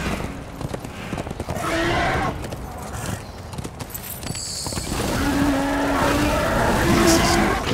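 Horse hooves clip-clopping with whinnies in the dark fantasy action game Darksiders II, set against a busy game soundscape of whooshing effects and tonal sounds, moderately loud throughout.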